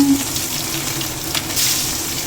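Patties or food frying in a pan until golden brown make a short, steady, close sizzle with a soft bubbling hiss. No one is talking.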